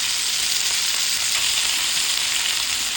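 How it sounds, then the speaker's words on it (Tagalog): Ground pork sautéing in a pan with onions: a loud, continuous close-up sizzle and crackle that holds steady throughout, with no talk. "Igisa lang natin yung giniling natin."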